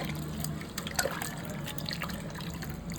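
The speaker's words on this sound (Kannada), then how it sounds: "ಚೆನ್ನಾಗಿ ಇವಾಗ ಕೈಯಲ್ಲೇ ಇದನ್ನು ಮಿಕ್ಸ್ ಮಾಡ್ತೀನಿ. ಅಂದರೆ ಚೆನ್ನಾಗಿ ಕಿವುಚ್ಬೇಕು ಇದನ್ನು." Tomatoes mixed with sambar powder squished by hand for rasam, a wet, squelching and dripping sound heard up close that runs on without a break.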